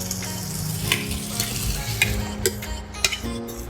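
Tomatoes dropped into a pan of fried onions for a green field bean curry, sizzling steadily and loudly with scraping stirs and clinks throughout, no talking.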